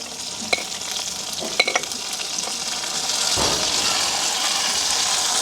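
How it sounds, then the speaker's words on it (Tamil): Pirandai and onion sauté in oil, starting with a few sharp utensil clinks over a soft fry, then swelling into a louder, continuous sizzle as they are stirred. "அப்படியே நல்ல வடிவாக பிரட்டி விடுவோம் இரண்டையும் வந்து அந்த எண்ணெயிலேயே வந்து அப்படியே நல்ல வடிவாக வதங்க வரும்"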